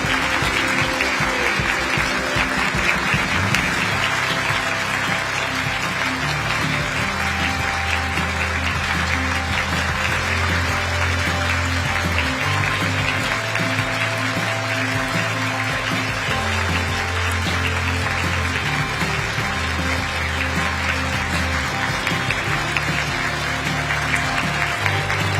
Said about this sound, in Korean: 여러분 계속해서 큰 박수로 환송해 주시기 바랍니다